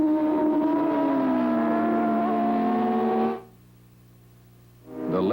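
A Suzuki Yoshimura superbike engine screams past at high revs during the 1981 Daytona Superbike 100 race, pitch sliding downward as it passes, then fading out before another bike approaches at the end.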